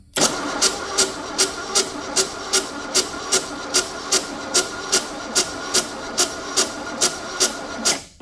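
A Ford Mustang engine that has sat for 32 years cranks over without starting, with a steady, even, rhythmic whirring of the starter, about two beats per second, loud and close with no talk.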